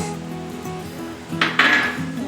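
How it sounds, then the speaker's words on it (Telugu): A cup of mustard seeds pours into a heated pan for avakaya mango pickle, a brief bright rattling hiss near the end after a quiet lead-in. "ప్యాన్ హీట్ ఎక్కిందండి ఈ కప్పు ఆవాలు వేస్తున్నాను"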